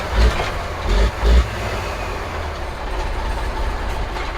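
An old A model truck engine with a turbo rumbles low and steady, with three heavy surges near the start before settling into a continuous drone.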